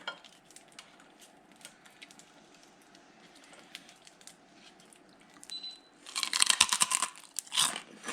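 Crispy fried pork skin chicharon is bitten and crunched close to the mic, a quiet stretch followed by a burst of loud, crackling crunches near the end.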